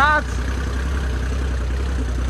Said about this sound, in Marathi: ट्रॅक्टर बोलते